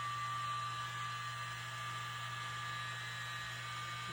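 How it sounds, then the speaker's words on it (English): A small handheld blower runs steadily at a high setting, drying and pushing acrylic paint across a wine caddy during a fluid art pour, a constant whirring hum with a sharp tonal whine, close and unbroken. "got my little blower, I'm going to keep it up really high"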